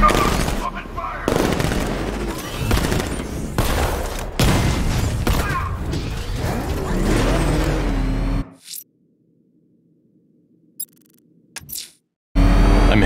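Gunfire in Batman Arkham Knight: dense bursts of shots and impacts with vehicle rumble for about eight seconds, then near silence with faint hum and brief clicks before noise resumes at the end.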